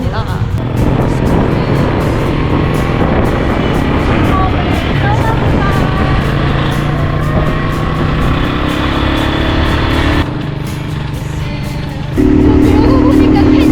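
A motorcycle carries riders on the way to a canyoning course in Alegria, Cebu, its engine droning loud and close with constant wind rumble, shifting in pitch partway through.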